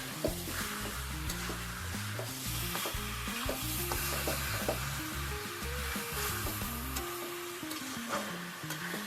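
Mutton fries in a pan, hissing steadily with frequent scraping stirs, while background music plays underneath and fades out near the end.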